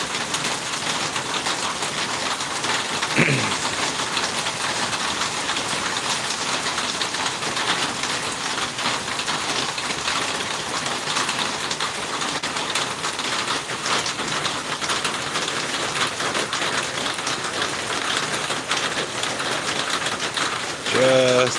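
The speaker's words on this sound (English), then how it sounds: "Relax and listen to the tin roof." Rain pours onto a tin roof in the countryside, a continuous close patter of drops on metal holding steady throughout, with a brief squeak or whistle partway through and no talking.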